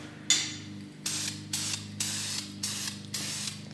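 A motorcycle triple tree gets a coat of spray paint from about ten to twelve inches away, heard as a series of short, close hissing bursts with brief pauses between them. A steady low hum from the shop runs underneath.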